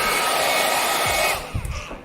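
An iTeracare Premium device blows hot air with a steady loud whooshing hiss close by, then switches off, leaving a few soft handling knocks and rustles.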